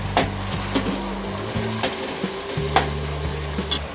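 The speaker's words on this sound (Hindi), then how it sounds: "अब हम इसमें डालेंगे ये 1 कप ग्रीन पीस।" Green peas frying with onions in a pot, a steady close sizzle broken by repeated scraping stirs and a few sharp clicks of the spoon on the metal.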